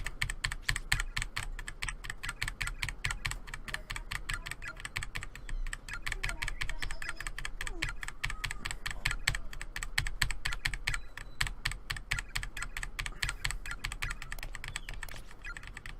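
The Corpse Party video game plays a computer keyboard typing sound effect: rapid, steady key clicks run nonstop for about sixteen seconds, close and even, with no voices.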